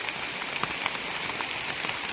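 Steady monsoon rain falls in Konkan at the start of the rainy season, a dense, even hiss of drops on surfaces with a few sharper patters, close and continuous.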